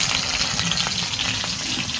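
Tilapia fish fries in hot oil in a pan over a traditional clay stove, giving a dense, close, continuous crackling sizzle with no talk.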